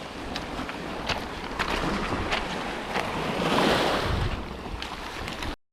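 Ocean waves wash and break along a rocky lure-fishing spot, a rolling, hissing surge with strong wind buffeting the microphone and a louder swell midway.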